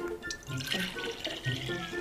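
Water poured from one glass into another, a continuous gurgling, splashing trickle with rising fill tones and small drips, fairly close and steady throughout.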